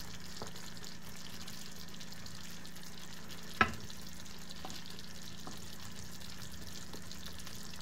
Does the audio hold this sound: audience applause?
no